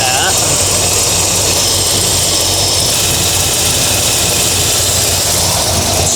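A carbureted engine idles loudly and steadily after its idle speed is raised slightly, a dense continuous rumble with no pauses, close to the microphone.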